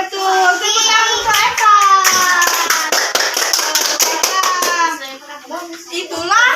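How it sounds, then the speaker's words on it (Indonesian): Children in a classroom clap in quick sharp bursts during a lesson on the five daily prayers, the claps loud and close as young voices chant together over them. "Tepuk tangan untuk"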